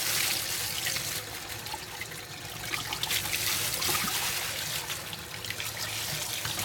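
Running water pours and trickles steadily while a dyed horse tail is rinsed, a soft continuous splashing stream heard close with no talking.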